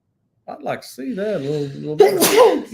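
A single loud, close sneeze bursts out right after a person speaks a short sentence.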